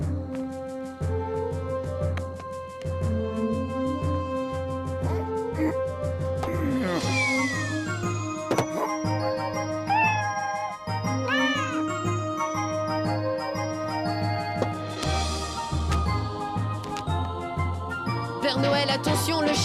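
Cartoon cat meowing in an animated French Christmas story, a few short rising and falling meows heard alongside tinkling music and a festive score.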